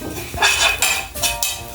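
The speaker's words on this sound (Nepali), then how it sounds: "तिल भुटिँदैछ" Sesame seeds roast in a pan while a utensil scrapes and clinks against the metal in a few loud, close strokes with short pauses between them.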